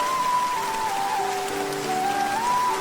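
Steady rain pours down over a thatched shed roof in an animated fairy tale, a continuous soft hiss with a sustained tune running over it and no voices.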